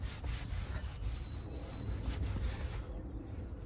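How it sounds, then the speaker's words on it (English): Steady scrubbing and rubbing on a white Tesla seat's side bolster, a close, continuous brushing friction with small uneven strokes and no talk. "now let me do the side bolster. Same thing, just rub at it."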